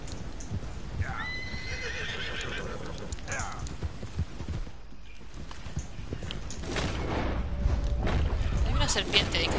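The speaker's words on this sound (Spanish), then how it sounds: "porque aunque sea un caballo salvaje" A horse in the Red Dead Redemption II video game whinnies loudly and clip-clops nearby, with someone talking over the game sounds in the background.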